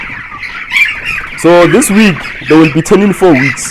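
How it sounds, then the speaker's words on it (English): Thirsty broiler chickens, three to four weeks old on a South African farm, squawk and call for water in a crowded chorus of repeated cries while someone talks over them. "the sound that they're making now is the sound of starving from water"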